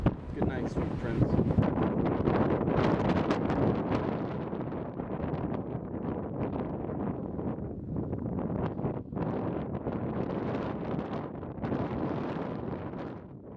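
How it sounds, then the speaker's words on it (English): Strong wind buffets an outdoor microphone in steady, rough gusts that rumble loudly and continuously for the whole stretch. "Goddamn wind."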